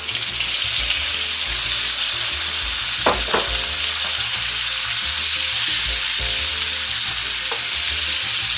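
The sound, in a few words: shrimp sizzling frying in pan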